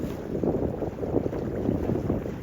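A sailing dinghy beating into the wind on open water, with a steady rush of wind noise and water wash against the hull, continuous and fairly close, with no voices.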